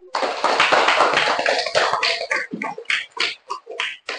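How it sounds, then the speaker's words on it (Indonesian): A classroom of students claps after a question-and-answer exchange, a dense burst of hand claps that thins into scattered, separate claps toward the end. "Tepuk tangan dulu ya."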